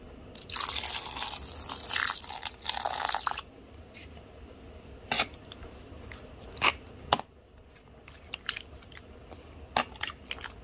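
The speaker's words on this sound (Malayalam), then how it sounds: "പിന്നെ വെള്ളം കൂടിയിട്ട് ഒഴിക്കാം." Water is poured into a pan of tomato curry, making a bright splashing rush for a few seconds, followed by scattered faint drips and clinks as cooking continues, with no voices.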